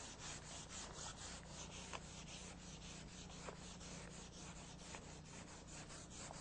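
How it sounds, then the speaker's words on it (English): Fine-grit sandpaper scrubs across body filler on metal bodywork, feathering the edge where filler meets metal, making a continuous soft rasping with steady back-and-forth strokes, close and fairly quiet with no voices. "I'm going to go with finer grit sandpaper now to help feather edge out the body filler where the metal and the body filler meet"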